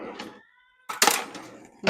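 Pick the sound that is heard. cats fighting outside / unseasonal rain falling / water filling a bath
cats fighting outside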